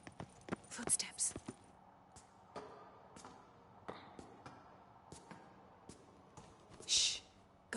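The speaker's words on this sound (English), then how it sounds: "Footsteps." Footsteps in The Witcher 3 video game, a series of scattered, fairly faint steps with soft clip-clop-like knocks over quiet ambience, with a couple of brighter bursts between them.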